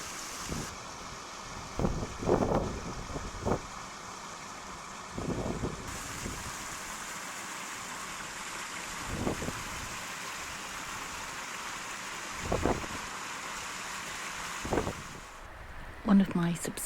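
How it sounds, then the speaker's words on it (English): Water is heard outdoors in the woods on a windy day, with a steady wash of wind noise and occasional louder gusts or buffets against the microphone, while a person speaks now and then. "obviously you want to hear the water"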